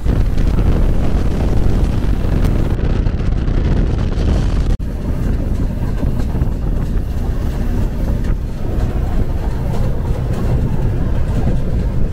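The Madhumati Express running fast and smoothly on a new line, a dense, loud roar of wind and rolling wheels with a brief dip partway through, heard from aboard without any talk.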